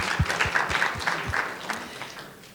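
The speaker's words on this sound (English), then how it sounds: "let's give her an applause" An audience applauds at a talk by a health-cuisine author, a light scattered clapping that is fairly faint and thins out gradually.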